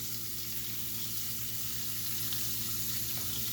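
Shrimp sizzle and fry in a pan with Cajun seasoning, a steady soft crackle with a low hum underneath and no talking.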